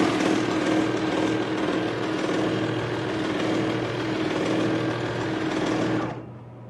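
Serger sewing machine running continuously while stitching a satin edge, a loud, steady mechanical whir and rapid clatter that stops abruptly near the end.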